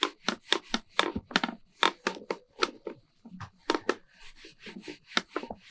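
Rhythmic strokes of rubbing and polishing wood inside an old Japanese house, a dozen or more close, crisp scrubbing passes in uneven bursts with short pauses between.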